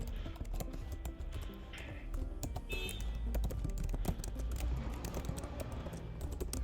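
Rapid, continuous typing on a computer keyboard while writing code in the Vim editor, dense close key clicks throughout over a low background hum.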